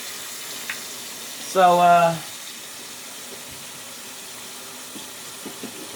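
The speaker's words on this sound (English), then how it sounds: "Let me put some water in this." Tap water runs briefly into a cooking pot for boiling chicken drumsticks, a short loud gush of about half a second amid quiet kitchen background, with a brief spoken word nearby.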